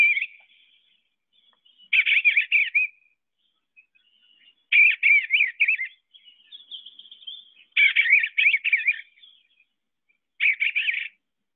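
Recorded bird song played back in a backyard: four bursts of screechy, buzzy chirping trills separated by pauses, each about a second long, with faint high calls between them.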